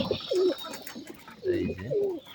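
Young adult male pigeons coo close by in a few throaty, rolling bursts, separated by short pauses, with no talking.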